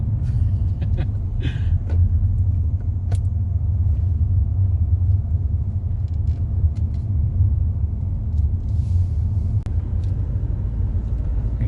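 A car climbs a mountain road, its engine a steady, close low rumble mixed with continuous road and tyre noise that holds an even level throughout.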